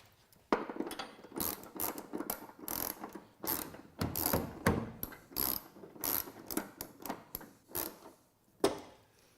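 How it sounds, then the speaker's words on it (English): A hand ratchet tightening a car fender bolt, close and clear, with a steady run of sharp clicking strokes in uneven bursts and no talking. "if I had the right ratchet, or you did, I think we could put some snugicity on this bolt"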